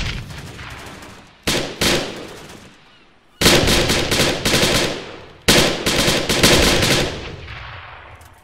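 Game gunfire in a team-versus-team match built around destroying a mortar crackles in three loud, dense bursts of rapid automatic shots, each separated by short pauses and trailing off with echoing tails; nobody speaks.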